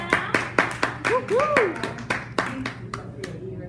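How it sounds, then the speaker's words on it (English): A round of applause at a teacher professional development session: scattered, uneven claps from a small group, with voices and chatter running underneath. "So let's give a round of applause for Dr. Brown."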